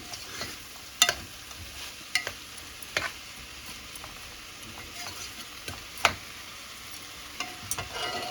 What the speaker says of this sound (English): So these have to fry up a little.